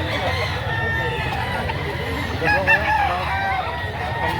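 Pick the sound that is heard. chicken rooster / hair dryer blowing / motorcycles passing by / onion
chicken rooster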